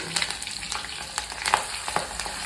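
Dried red chillies, slit green chillies and curry leaves sauté in hot oil, a dense close sizzle with brief stirring scrapes, no talk.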